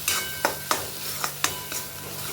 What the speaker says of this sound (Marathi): त्याला छान परतून घ्यायचं